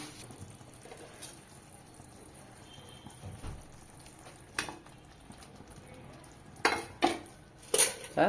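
A utensil clinks and scrapes against a pan as mashed eggs are stirred into egg gravy, mostly quiet with a few sharper knocks toward the end.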